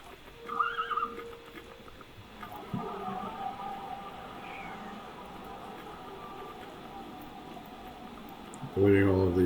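A Minecraft horse whinnies near the start, then hooves clop faintly along a steady background. A louder, heavy thump sounds at the very end.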